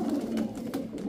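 A pigeon kept among birds for sale gives soft, low coos in short repeated pulses, quiet and close, with no talk over it.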